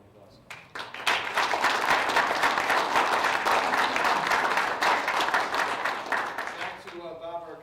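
After a brief quiet moment, a city council meeting audience breaks into warm, sustained applause for a veteran, holding steady for several seconds before fading as a voice begins speaking.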